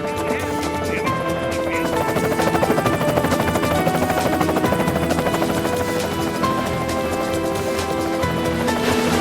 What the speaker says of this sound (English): He's up there in the helicopter.